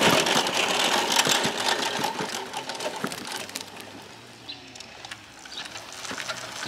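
A small moped engine starts and spins its drive pulley, giving a fast, buzzy mechanical rattle up close that stays steady, then eases slightly and carries on running.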